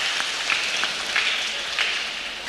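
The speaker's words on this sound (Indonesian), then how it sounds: "Tepuk tangan untuk MAN." A school audience in a hall claps together in a dense, even patter of applause, moderately loud, with no speech over it.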